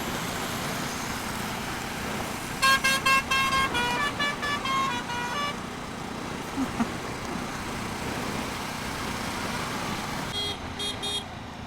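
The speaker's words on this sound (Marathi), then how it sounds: "ह्याच्याकडे किती गाण्यांचा स्टॉक आहे हॉर्न मध्ये" A vehicle horn in Rajasthan traffic plays a musical tune in two bursts of stacked tones, loud and close, over steady road and engine noise; a second shorter melodic burst follows near the end.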